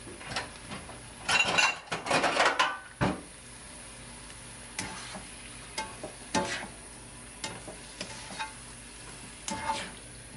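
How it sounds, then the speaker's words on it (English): Broccoli seasoned with garlic salt fries in a pan, a faint sizzle under scattered clinks and scrapes of a utensil stirring, with a burst of clatter early on followed by sparser knocks, close and without talk. "And then you let that cook. You're going to stir it around."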